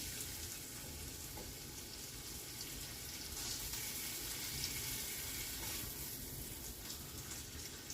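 Turkey burger patty frying in a pan, a steady dense sizzle with crackling and faint watery hiss holding at even loudness throughout, close by and without talk.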